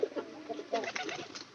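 A visiting pigeon, slightly ill and missing part of one leg, gives a few soft throaty coos close by in a brief, quiet burst.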